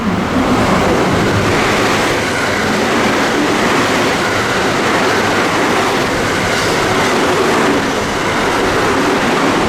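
A JR West Biwako Line train passes through a station, a loud continuous rush of wheels and rolling stock with rhythmic clatter, close by and steady throughout.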